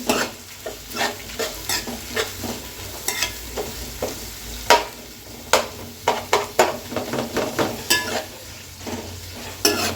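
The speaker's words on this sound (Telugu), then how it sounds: "ఉల్లిపాయ వేసుకున్నాం మనం. ఇది బాగా ఫ్రై చేసుకోవాలండి." Chopped onions frying in a pan for chicken biryani, a steady sizzle broken by frequent sharp scrapes and clicks of a spoon stirring against the metal, close and fairly loud throughout.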